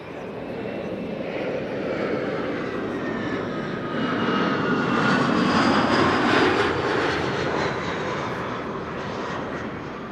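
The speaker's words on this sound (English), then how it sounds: "after that, KLM with a 737 arriving from Paris" A KLM Boeing 737 arriving at Amsterdam Schiphol Airport, its jet engines producing a steady, loud roar that swells toward the middle and holds as the plane passes fairly close, with no talking.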